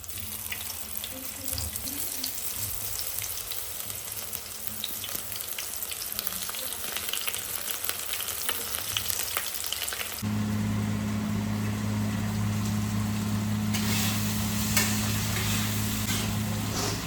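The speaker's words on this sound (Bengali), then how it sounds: "এখানে তেল হয়ে গেছে গরম, এবার এক এক করে ছাড়ি সয়াবিনগুলো" Soya chunks dropped one by one into hot oil fry with a steady, dense sizzle that grows louder and fuller partway through, a continuous close crackle with no voices.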